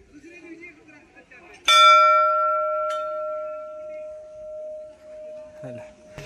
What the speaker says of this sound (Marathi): घंटी तो वाजव